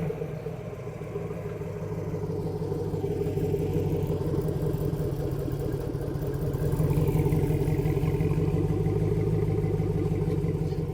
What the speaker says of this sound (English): So that is a 3-inch exhaust, stainless, from the muffler, from the coupler up front, all the way through the muffler and out the side is all stainless 3-inch.